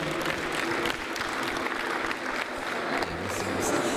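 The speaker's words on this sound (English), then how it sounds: "Please give him a round of applause and stand up also as you clap for him." An audience at a leadership event in Niger gives a speaker a round of applause, a dense steady clapping from a crowd that runs for about four seconds with faint voices underneath.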